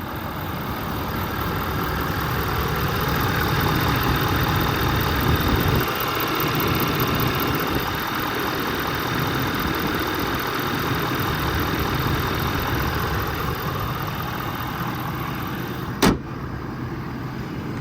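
A 2022 Ford F550 service truck's diesel engine idles steadily with a low, constant rumble throughout, broken near the end by a single sharp click or clunk.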